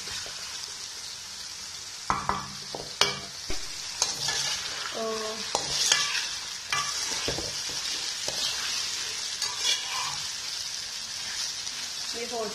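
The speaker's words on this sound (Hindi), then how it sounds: "ये भी मैंने छोटे छोटे काटे हुए थे, इनको भी अच्छी तरह से मिक्स करना है।" Chopped vegetables are stirred in a hot pan at home, with steady sizzling under repeated scraping and clacking strokes of a spoon through the 12 seconds, loud and close.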